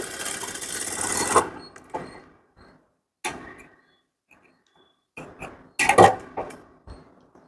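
A sewing machine stitches blouse lining to the main fabric in short bursts: a steady run of needle clatter, then pauses and brief whirring spurts with clicks in between, close and clear.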